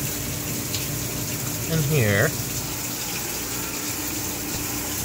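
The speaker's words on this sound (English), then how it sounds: "So while these other tanks keep draining and then filling" Steady rush of water from aquarium tanks draining and refilling, a continuous wash of noise with a brief voice speaking over it partway through.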